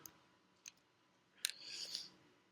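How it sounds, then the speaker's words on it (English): A few faint clicks, then a brief crisp snip followed by a half-second of scissors slicing through paper, quiet and close. "Can you tell those are scissors?"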